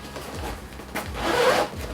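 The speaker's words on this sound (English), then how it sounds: "But the front, if you can see, we do have a zipper option" Zipper pulled open along the front of a carrying bag for a Cheflee 6-quart stand mixer, a close scratchy rasp building over about a second, preceded by soft handling rubs, no talk.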